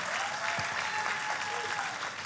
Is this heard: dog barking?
no